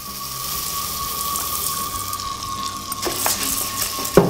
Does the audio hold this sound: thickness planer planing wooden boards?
no